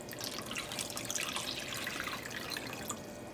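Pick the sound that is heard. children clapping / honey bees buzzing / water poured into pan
water poured into pan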